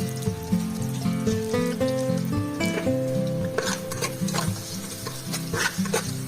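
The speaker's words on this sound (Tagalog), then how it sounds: "ilagay na natin ang sibuyas sa kumukulong mantika sa kaldero" Chopped onion hits boiling oil in a cooking pot and sizzles steadily, with clinks of a utensil stirring against the pot throughout.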